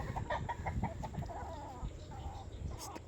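Chickens and fighting roosters on a farm cluck in a steady, soft series of short calls, fairly close, over a low background hum with no talking.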